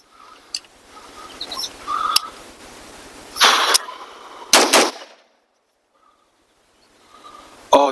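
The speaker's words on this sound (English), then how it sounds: "Oh, that is such a smooth shooting gun." A BRN-180 rifle fires a few sharp, loud shots at uneven intervals, with short quiet gaps and lighter mechanical clicks between them.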